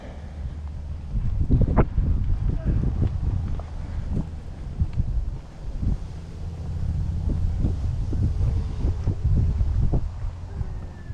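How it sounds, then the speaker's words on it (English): Strong gusty wind buffets the microphone outdoors on a wooded hiking trail, with low rumbling blasts and intermittent bumps and rustles that rise and fall. "it's obviously way too windy for that"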